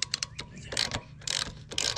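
Tool removing bolts from the auto choke of a Honda lawn mower, heard as quick bursts of ratcheting clicks and metallic ticks, close and fairly loud.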